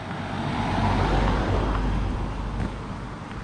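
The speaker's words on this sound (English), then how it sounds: "Car coming, I'll just get off the road." A car approaching and rolling past on a narrow country lane at Mill Dale, a loud close engine and tyre rumble that swells, holds, then eases slightly as it goes by.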